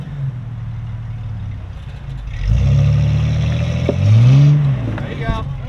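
An off-road vehicle on the Slickrock Trail climbs Squeeze Rock, its engine throttling up into a louder rising rev partway through, close by, with people talking over the engine noise.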